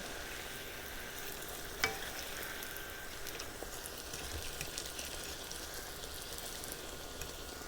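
Bacalaitos, salted cod fritters, frying in hot oil with a steady bubbling sizzle at moderate level, one sharp clink near the start.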